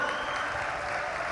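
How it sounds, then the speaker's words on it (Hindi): Audience at a Bageshwar Dham religious gathering claps steadily, a dense, continuous wash of applause filling the whole short stretch with no pauses. "ताली बजाकर उन्हें धन्यवाद दो।"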